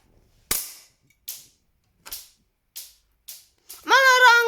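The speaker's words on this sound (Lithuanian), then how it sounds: "Čia pistoletas." A video game pistol cracks six times at uneven intervals, each sharp report trailing off quickly, close and loud, with a voice starting right after the last shot.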